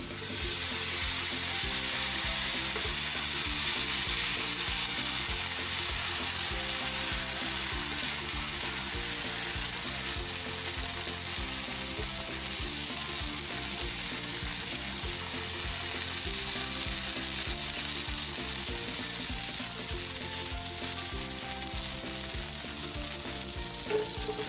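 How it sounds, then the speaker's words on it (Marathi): Mixed-dal batter sizzling loudly and continuously in a hot pan as it is spread out with a small bowl, a close, even frying hiss with faint scraping underneath and no talk. "मिश्रण आपण वाटीनं पसरून घेऊ"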